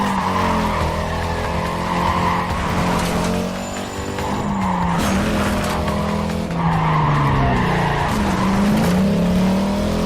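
Race car in Need for Speed Carbon braking hard into a turn, tires squealing and skidding loudly over a roaring, shifting engine for the whole stretch.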